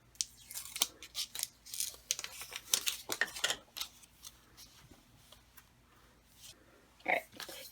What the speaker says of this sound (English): Peel off the clear paper.